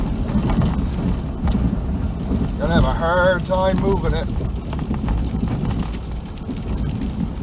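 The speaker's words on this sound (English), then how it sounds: "this is just freezing rain like crazy down here. It's just bouncing off the windshield and the plow and the headlights" Freezing rain patters steadily on a truck windshield and snow plow during a winter storm, a dense, continuous hiss of ice pellets heard under an idling engine rumble while someone talks over it.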